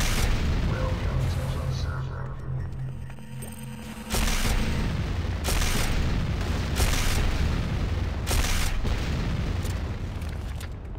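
Structures blowing up in the video game Renegade, a loud sustained rumble broken by repeated booming bursts, with an announcer voice speaking over the blasts.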